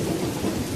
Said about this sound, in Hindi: बारिश की हल्की हल्की बूंदें गिरने लगी।